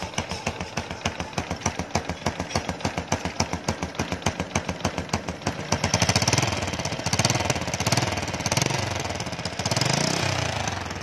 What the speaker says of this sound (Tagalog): Ito ngayon ang tunog ng tambutso na may butas dito sa puno ng makina.